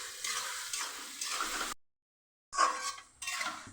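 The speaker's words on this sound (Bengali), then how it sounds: "মশলা দিয়ে মাছের আলু কষানো হচ্ছে।" Fish and potatoes sauté with spices in a pan, a soft sizzle with clinks of a utensil against the pan, broken by a short silence partway through.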